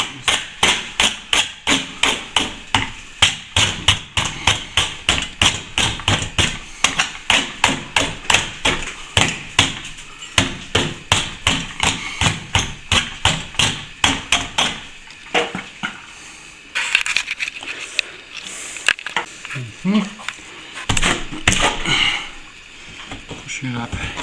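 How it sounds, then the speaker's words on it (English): A tool scrapes back cracked ceiling plaster in a long run of sharp, regular strokes, loud and close, then turns more irregular with scattered scuffs and knocks toward the end. "Scrape it back a bit."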